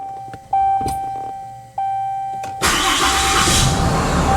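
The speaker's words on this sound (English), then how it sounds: "so let's go ahead and start the truck" A Ram pickup's 6.7L Cummins diesel engine cranks twice with brief starter whirs after a fuel filter change, then catches and settles into a loud, steady rumbling idle over a high electrical whine.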